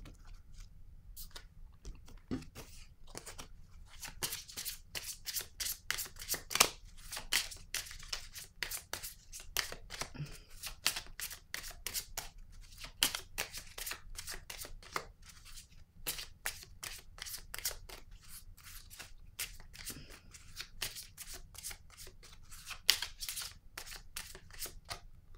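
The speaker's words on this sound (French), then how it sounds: "Je vais déposer une autre carte." Tarot cards are shuffled and laid out on a table, giving a long run of sharp, crisp flicks and slaps close by, steady and busy throughout, with no talking.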